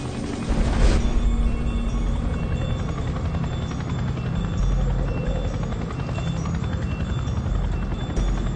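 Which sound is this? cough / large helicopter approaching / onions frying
large helicopter approaching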